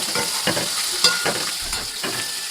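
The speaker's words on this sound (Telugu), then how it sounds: "సో ఆనియన్స్ మంచిగా ఫ్రై చేయాలి" Onions fried in a home kitchen pan, giving a steady close sizzle broken by repeated scraping stirs at an even pace, with no talking.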